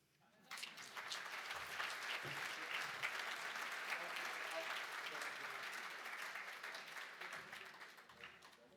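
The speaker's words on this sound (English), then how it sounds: "Big round of applause again for Narelle Hand, Northern Beaches Women's Shelter CEO." Warm applause at a charity auction for the Northern Beaches Women's Shelter CEO, a full room clapping steadily for several seconds after a quiet start, tapering slightly toward the end.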